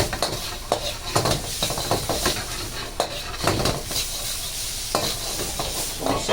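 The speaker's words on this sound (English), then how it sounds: "saute those onions around a little bit" Onions, ginger and garlic sautéing in a wok, with steady sizzling and repeated scraping and clattering of a utensil against the pan, close and fairly loud.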